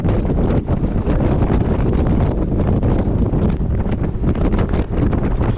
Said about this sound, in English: I'll shut up and just let you listen to the wind.